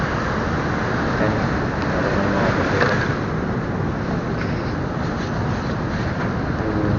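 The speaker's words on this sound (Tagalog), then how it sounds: "Napakalaki talaga ng alon" Big ocean waves during a stormy, rainy monsoon rumble continuously with heavy wind roar, a loud broad wash of surf and gusts with no voices.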